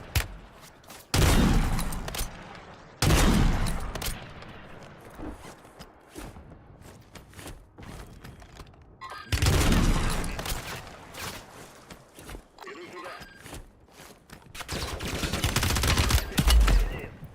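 Bursts of automatic gunfire from the video game Warzone 3, loud volleys and long sustained fusillades separated by quieter stretches with footsteps and shorter shots.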